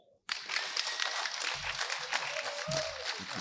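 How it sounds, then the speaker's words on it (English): Audience at a national reading summit breaks into a round of applause, a dense steady wash of clapping that starts abruptly and carries on for about three seconds. "Can you please give them a round of applause?"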